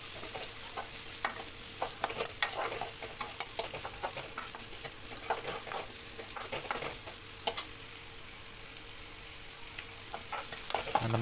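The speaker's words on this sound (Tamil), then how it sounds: "வெங்காயத்தோட கலர் கொஞ்சம் மாறுற வரைக்கும் கொஞ்சம் வணக்குங்க." Small onions sauté in a pan over a medium flame, giving a steady soft sizzle broken by frequent light clicks and scrapes of stirring, with no talking.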